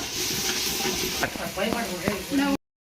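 Ginger garlic paste frying in hot oil, a close, dense sizzle and hiss with a few scraping stirs near the end, no speech.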